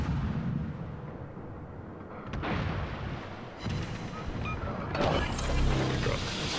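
Japanese Yudachi destroyer in the naval video game World of Warships firing its guns, several heavy booming salvos at irregular intervals over a rumbling background.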